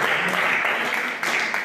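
Brief, continuous applause from a church congregation at a sermon, many hands clapping in a thick even roar, with some voices blended underneath.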